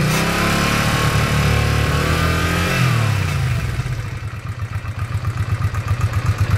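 A Honda Shadow VT500 motorcycle with a slight throttle issue, warmed up with the choke off, runs loudly up close, holding a steady drone before settling into a rhythmic, pulsing idle.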